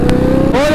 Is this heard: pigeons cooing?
no